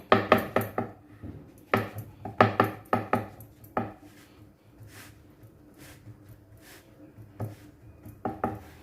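Hands patting sesame-coated bhakri dough made from mixed nachni, jowar and bajra flour, with quick rhythmic slaps in close bursts, a quieter lull, then a fresh run of pats.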